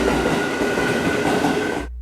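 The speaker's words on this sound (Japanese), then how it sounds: "7時55分発の琴平行き普通列車が発車していきます。" A local train departing Takamatsu Station for Kotohira rumbles steadily and loudly nearby, with a constant mechanical drone and faint wheel clatter, cutting off abruptly at the end.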